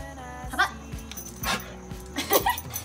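A trained dog barks and growls on command from its handler, giving a few short, close barks spaced about a second apart, with a low growl between them and light handler voice in the background.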